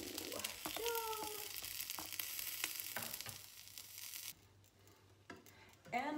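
Grilled cheese sandwiches sizzling in a pan, with a quiet, uneven frying hiss under a few short spoken remarks, then a softer, sparser stretch near the end.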